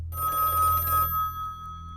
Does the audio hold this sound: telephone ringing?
yes